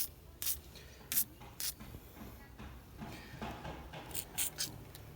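Lubricant sprayed from an aerosol can onto car suspension parts to stop knocking noises, three short sharp hissing bursts followed by a cluster of quicker sprays, close and fairly quiet with faint handling sounds between.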